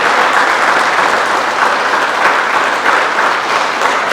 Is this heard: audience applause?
yes